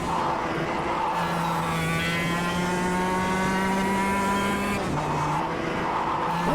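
A go-kart engine in the racing game KartKraft drones steadily and loudly, its buzzing note holding level for several seconds, then dipping and bogging down as it loses power before recovering.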